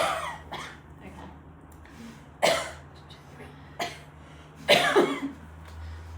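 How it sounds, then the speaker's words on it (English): Strong reflexive coughs after a small sip of water from an open cup during a swallow screen, several loud bursts spaced a second or two apart over a steady low hum. "Good airway protection, that reflexive cough, that was a big strong cough."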